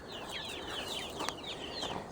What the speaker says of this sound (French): Donc là on a les poules.